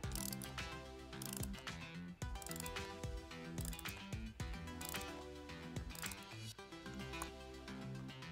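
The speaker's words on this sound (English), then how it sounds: "We've got a torque wrench here" Torque wrench set to 10 newton meters tightening the saddle wedges on an ENVE seatpost, faint repeated clicking and ratcheting with metallic creaks, close but quiet.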